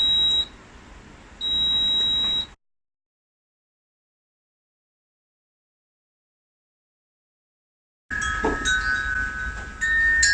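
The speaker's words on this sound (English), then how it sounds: "the washing machine has beeped like 5 times" Electronic beeps from a washing machine sound close by: two sustained high tones with a short gap, then silence, followed by another stretch of beeping over background hum.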